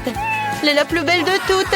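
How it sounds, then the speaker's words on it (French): A pet cat meowing indoors in a bedroom, with short, bright, high meows mixed closely with someone talking over them. "C'est mon chat"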